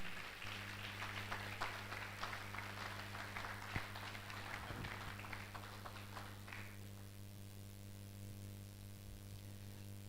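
Applause for a valedictory lecturer at an academic ceremony, a fairly faint spread of clapping from the assembled audience over a steady low hum, fading out after several seconds.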